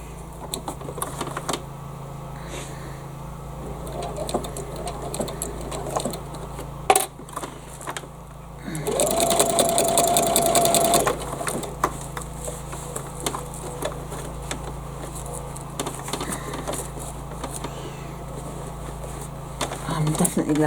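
A sewing machine stitches a bag in one short loud burst of rapid mechanical whirring, with quieter handling sounds and a person talking before and after.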